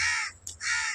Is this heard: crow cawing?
yes